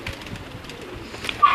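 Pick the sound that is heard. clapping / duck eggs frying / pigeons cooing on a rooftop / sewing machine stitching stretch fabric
pigeons cooing on a rooftop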